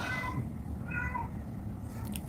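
An unhappy, neglected pet cat gives a few drawn-out, plaintive meows over a constant low background hum, fairly faint and distant.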